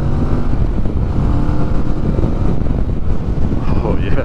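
Riding a Kawasaki Vulcan S motorcycle brings a loud, steady engine drone mixed with heavy wind buffeting on the microphone, continuous and close throughout.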